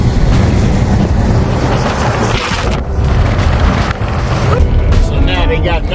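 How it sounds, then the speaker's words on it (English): Heavy wind roars and buffets loudly and continuously around a truck driving on a Southern California highway, with deep rumbling gusts that barely let up. "But when you're dealing with these heavy winds"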